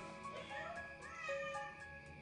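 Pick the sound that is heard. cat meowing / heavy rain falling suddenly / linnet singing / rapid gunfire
cat meowing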